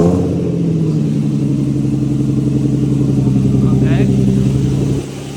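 A car engine with an exhaust leak runs and revs close by, a loud throbbing rumble with a ticking pulse that drops off near the end, while someone speaks briefly over it.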